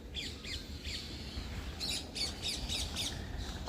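Harsh, raspy squawks of egrets repeat in short bursts over a steady low outdoor rumble in a village field, fairly close and moderately loud.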